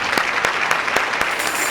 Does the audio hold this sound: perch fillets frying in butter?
no